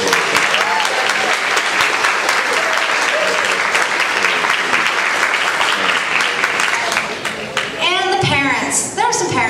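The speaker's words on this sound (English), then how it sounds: "So let's give them a huge round of applause." A large crowd at a high school awards ceremony gives students a sustained round of applause, dense rapid clapping at close range that starts to thin out toward the end as voices rise in the room.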